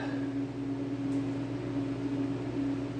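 Milling machine motor running steadily while drilling with a big drill bit held in a modified Morse taper, a continuous loud hum with a strong steady tone and no pauses.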